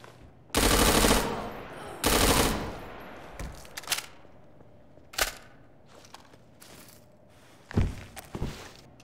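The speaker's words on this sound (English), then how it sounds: "I think I'll just stick with the machine gun for now." Machine gun fire in Garry's Mod: two loud sustained bursts of automatic fire up close, followed by several sharper single shots and thuds spaced out over the rest of the clip.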